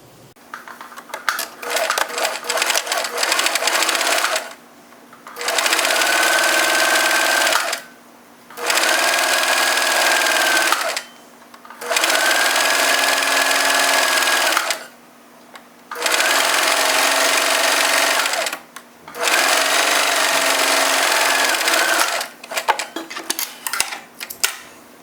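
A sewing machine stitches a fabric rouleau tube with white thread, running in about six steady, loud bursts of rapid mechanical whirring separated by short pauses, close by and without speech.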